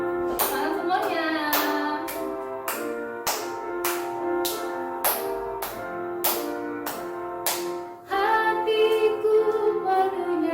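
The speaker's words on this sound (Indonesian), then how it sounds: "Tepuk tangan semuanya." A church congregation at a Sunday service claps steady, regular beats in time with an organ or keyboard worship song, with sustained chords under each clap.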